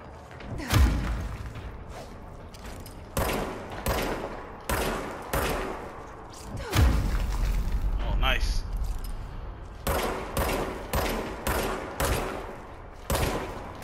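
Gunfire in the video game Control, a string of sharp, loud shots spaced in irregular bursts, some with deep booming impacts, over continuous background game ambience.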